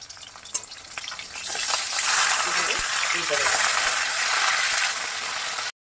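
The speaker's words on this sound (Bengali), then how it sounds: "মাছগুলো ভাজা হয়ে গেছে এবার আমি তুলে নেবো" Steady, loud sizzling of snakehead fish frying in hot oil, a constant crackling hiss with faint clinks near the start.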